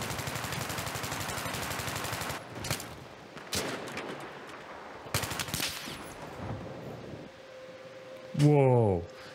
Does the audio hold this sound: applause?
no